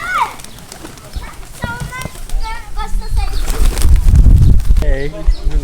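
Pigeons at a market in Sheki, Azerbaijan, cooing and flapping close by, with wingbeats and bird calls that grow louder toward the end, under a busy crowd and people talking.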